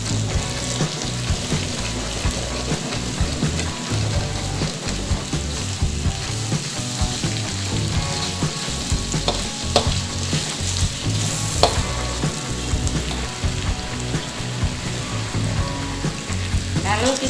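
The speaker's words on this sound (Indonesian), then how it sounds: "Ini kecapnya ikut saya tumis teman-teman." Continuous loud sizzling of soy sauce stir-frying in a hot pan, with occasional scraping clicks of a utensil, close up and without speech.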